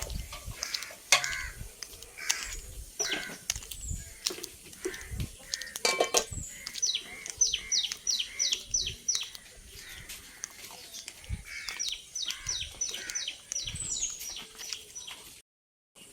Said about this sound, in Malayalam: കുറേ കിളികൾ ഇവിടെ എല്ലാം ഇരിപ്പുണ്ട് കേട്ടോ.